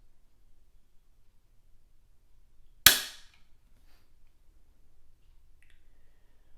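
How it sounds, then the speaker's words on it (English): A single sharp click from a Timney trigger on a CZ 457 rifle as it breaks during a pull-weight test, one crisp close snap in an otherwise quiet room. "So we will cock the action and we will get our first pull weight here."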